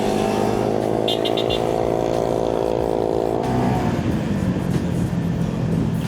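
Many motorcycles idle and rev together on a city boulevard at night, a loud, dense engine drone with one machine's pitch climbing and falling before the mix turns rougher and busier.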